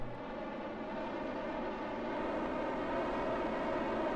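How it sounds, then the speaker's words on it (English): Small rocket engines roar in Kerbal Space Program, a steady, broad, rumbling thrust noise that holds at an even loud level throughout without pauses or talk. "Hate these loud engines."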